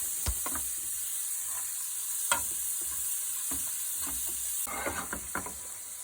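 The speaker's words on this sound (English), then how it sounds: "Saute that garlic around in there for a couple seconds." Garlic and caramelized onions sauté in a pan for a smothered beef patty gravy, giving a steady close sizzle broken by a few sharp stirring scrapes and taps, with no talking.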